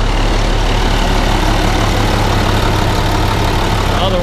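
Vermeer BC1800 wood chipper engine idling steadily after start-up, a constant close, loud mechanical rumble with no talk.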